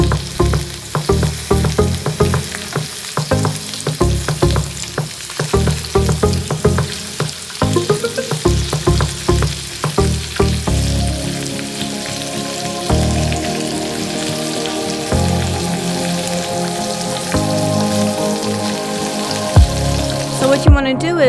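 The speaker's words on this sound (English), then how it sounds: "We're going to go ahead and give our shrimp a nice brown sear." Shrimp searing in olive oil in a skillet at medium-high heat, with a loud, steady sizzle and crackle, close up and continuous, with some utensil knocks in the first half.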